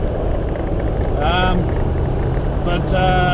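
A twin-turbo V8 engine in a Land Rover ute runs with a steady, smooth low rumble close by while someone talks over it.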